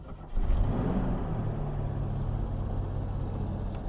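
A Ford Falcon XA, left unstarted for 16 years, catches and settles into a low, rough, steady idle rumble just after a short starting burst, sounding close and moderately loud.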